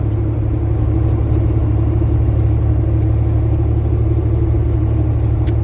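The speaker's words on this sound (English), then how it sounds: "we are bumping along in a Peterbilt today" A Peterbilt truck's engine rumbles with a deep, steady drone and road noise from inside the cab, continuous and fairly loud with no talking.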